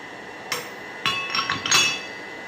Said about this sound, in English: Use cut-off tool.